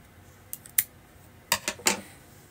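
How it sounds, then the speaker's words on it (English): Scissors snip yarn while a crochet hat is being finished, giving a few sharp, close metallic clicks: two separate snips, then a quick cluster of three in a quiet room. "Take the scissors."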